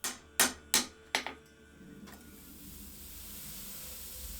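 Four sharp hammer blows ring out in quick succession on a hot steel billet being forge welded with 1095 steel folded inside. A fainter fifth strike follows, then a soft hiss fills the quiet.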